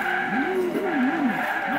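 Noble M600 sports car in Forza Horizon 2 racing with sustained wavering tire squeal over a steady engine drone, skidding loud and close for the whole stretch.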